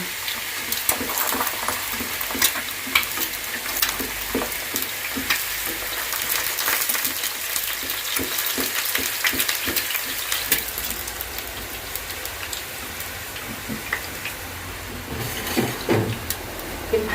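Kangaroo meat is stir-fried in a hot pan, with a constant loud sizzle and repeated scraping and clacking of a spatula against the pan, close up and continuing throughout without speech.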